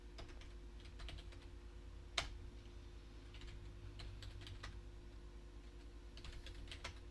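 Keys clatter on a computer keyboard in bursts of quick taps with one sharper knock, while a DOS mouse driver is set up; no one speaks over it.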